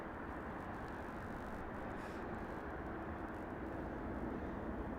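Allegiant Airbus A319 airliner passing at Las Vegas Harry Reid International Airport, a broad steady jet roar that holds loud and even throughout with no pauses.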